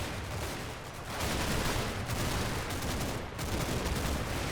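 Dense gunfire and distant explosions rumble without a break in the Combat Mission: Battle for Normandy war game, forming a steady, loud battle din with no clear single shots and no talk.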